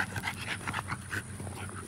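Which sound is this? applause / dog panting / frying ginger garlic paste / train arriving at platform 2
dog panting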